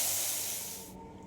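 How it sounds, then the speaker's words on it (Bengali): Fish frying in a pan gives a short burst of bright, loud hiss that fades and cuts off after about a second. "মাছগুলো ভেজে নিচ্ছি।"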